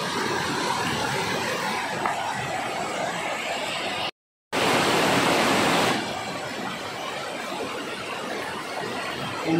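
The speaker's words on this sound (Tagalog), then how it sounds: "I'm here in the rear of the waterfalls" Dam Agan waterfalls in Dimiao, Bohol, heard from behind the falls as a loud, constant broadband rush of water, with one brief dropout partway through and a slightly brighter surge just after it.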